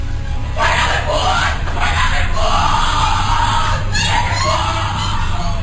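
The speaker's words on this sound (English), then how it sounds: "What you're hearing is the first recording ever made of the Skull and Bones initiation ceremony." A crowd yells and shouts in a continuous chaotic din during a Skull and Bones initiation ceremony, rough and distorted like an old recording, with bursts of louder cries.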